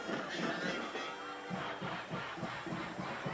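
A festive homecoming crowd fills a high school football stadium at night with a steady roar of cheering and shouting, heard from within the stands, continuous and dense, with voices mixed throughout.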